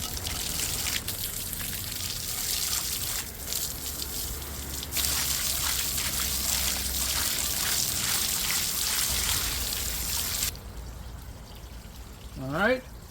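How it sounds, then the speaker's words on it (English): Garden hose spraying and rinsing out a bird bath outdoors, a steady loud rush and splatter of water on the basin for about ten seconds, then a quieter trickle as the flow eases, with a short voiced sound at the end. "Now it's time to rinse with the garden hose."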